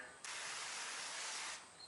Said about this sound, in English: we're going to spray a little bit of vegetable oil on here